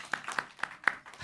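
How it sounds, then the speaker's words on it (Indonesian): A few sparse, faint hand claps from an audience at a church youth service, about four separate claps spaced roughly evenly, as a brief round of applause for the host. "tepuk tangan buat host kita"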